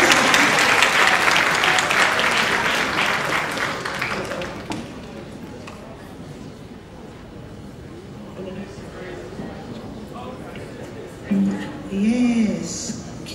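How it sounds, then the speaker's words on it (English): Crowd clapping at the Sumfest reggae festival awards, dense applause for about four seconds fading to scattered claps and ambient crowd noise, with a voice speaking near the end. "Clap it up, everybody."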